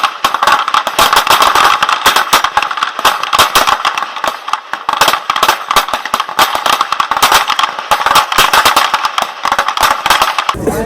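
Pistol fire at a 50 m Morgartenschiessen shooting event with a SIG P210: loud, sharp cracks come thick and fast, overlapping irregularly across the range.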